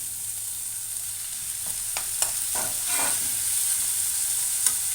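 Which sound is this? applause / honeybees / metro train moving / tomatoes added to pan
tomatoes added to pan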